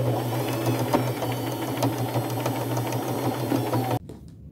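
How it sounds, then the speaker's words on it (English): A sewing machine hums and clatters steadily up close as it straight-stitches an applique with gold thread, a continuous rhythmic whir that stops abruptly near the end. "I am just going to sew around that circle's edge with gold colored thread and a straight stitch"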